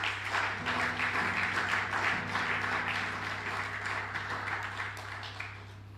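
A church congregation applauds steadily for about six seconds, a broad, even wash of clapping over a low steady hum, with a few faint sustained tones underneath.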